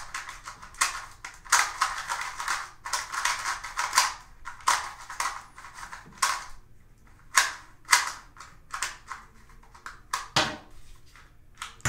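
A hand-turned MF2c twisty puzzle being cubed, giving light, scratchy clicks and snaps in quick irregular bursts with brief gaps, close and fairly crisp, no talking.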